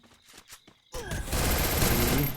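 A Vector submachine gun fires a sustained, loud automatic burst in a video game, starting abruptly after a second of quieter movement sounds and running continuously to the end.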